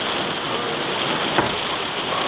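Steady rain falls and patters on surfaces near Gigerwaldsee in Switzerland, a dense, even hiss with no break across the short stretch, heard alone with no voices.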